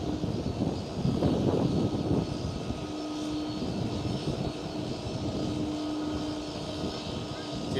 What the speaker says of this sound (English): Delta Airlines A330 coming into the gates